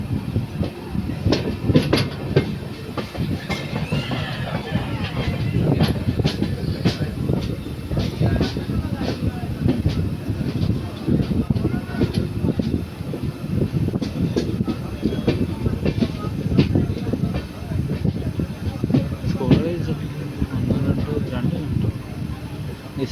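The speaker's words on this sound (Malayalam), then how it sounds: "ഇലക്ട്രിക് ട്രെയിനാണ്" An electric passenger train rolls past on rails near Karunagapally, a steady loud rumble and rattle with clickety-clack wheel beats running the whole time, close by, with speech faintly mixed in.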